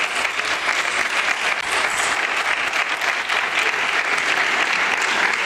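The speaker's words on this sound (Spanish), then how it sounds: "un aplauso para ellos" Dense, steady applause from a ceremony audience at an international award event, a continuous wash of many hands clapping at even loudness throughout, with no speech on top.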